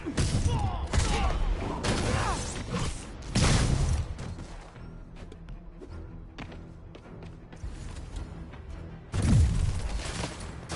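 A combat scene in Marvel's Spider-Man is full of bursts of gunfire and impact thuds that come in loud clusters, with a quieter lull in the middle. Game character voices call out over the action.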